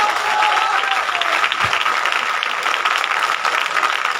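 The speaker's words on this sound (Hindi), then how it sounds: "तो एक बार खूब जोर से ताली बजा लो अपने लिए।" A crowd claps loudly and steadily for several seconds, a dense sustained round of applause with no talking over it.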